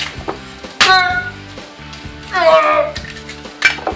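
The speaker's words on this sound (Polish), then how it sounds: "jak już się olej podgrzeje, możemy dać jajka" Eggs hit hot oil in a pan for scrambled eggs, giving sizzling bursts with clinks of pans and utensils between them, close and fairly loud, with a voice briefly in the background.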